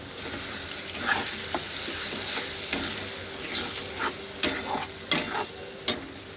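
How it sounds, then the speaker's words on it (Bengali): A steady oily sizzle of ginger, garlic and tomato spice paste frying, broken by several sharp scrapes and stirring clatters from a spoon in the pan. "মশলাগুলোকে আমি একটু ভেজে নেব।"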